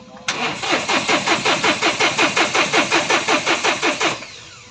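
A Mahindra Bolero Power Plus in neutral cranks on its starter without firing, a fast, even chug of about twenty strokes over four seconds that stops abruptly, with a fuel-control fault keeping the engine from starting.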